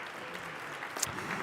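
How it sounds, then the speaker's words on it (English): Audience at a lecture event applauds the speakers, a fairly quiet, even patter of clapping from a seated crowd, heard at a distance. "Can you please give them another round of applause?"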